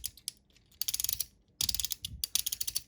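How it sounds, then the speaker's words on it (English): Ratchet joints in the knees of a Modfans AL01 Path of Transfiguration Ruler third-party Transformers figure click in fast rapid bursts, crisp and close, with short pauses between sets of clicks and no talking. "The knees are great. They have this lovely ratchet."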